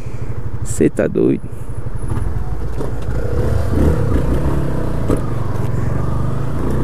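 A brand-new Yamaha Fazer 250 motorcycle on its first kilometre hums steadily close by with road rumble, while someone talks over it briefly.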